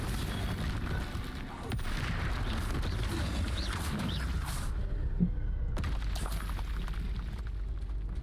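Spell-casting blasts in the Hogwarts Legacy game: a series of booming, crackling magical explosions with rumbling low end, broken by a short lull, with a voice faintly present under the effects.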